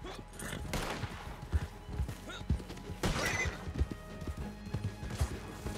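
In Red Dead Redemption 2 online, a horse whinnies and hooves clip-clop in irregular thuds, with distant gunfire-like bangs and someone talking in the background.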